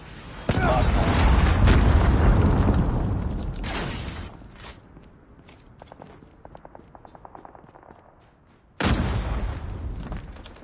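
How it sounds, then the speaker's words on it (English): A Predator missile strike explodes in Call of Duty: Mobile, a long, loud rumbling blast that fades over several seconds, then quieter clicks and rattles, before a second heavy burst near the end. "Hostile Predator missile inbound"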